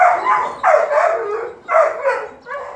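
A dog barks repeatedly in close, loud bursts, the barks running together in uneven clusters during a tense reintroduction with another dog after an earlier fight.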